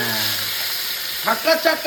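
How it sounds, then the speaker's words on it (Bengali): Steady hissing sizzle of tilapia frying in hot oil, close by, with a few clinks and stirring sounds toward the end. "তেলে মাছ হয় ভাজা"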